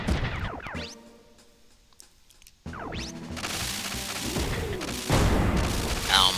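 Missile strikes in Front Mission 3 land as a string of heavy booms and crashing blasts, with a near quiet gap partway through before a sustained, dense wall of explosions builds louder toward the end.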